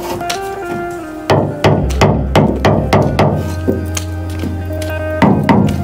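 A screwdriver tapping heated car body metal, with a series of sharp, loud metallic knocks, about a dozen in uneven rhythm, ringing close by.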